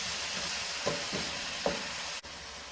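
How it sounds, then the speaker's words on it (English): A spoon stirs a rice and peas base with herbs and spices in a pot, giving a soft, steady sizzle with a couple of light scraping strokes and a quiet clack near the end. "We're going to stir this around for a little bit before adding in"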